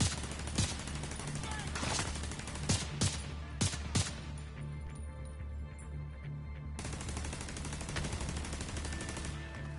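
Rapid gunfire from headshots in The Division 2 video game: a string of sharp cracks and quick bursts early on, a brief lull, then more shots over a constant low game drone.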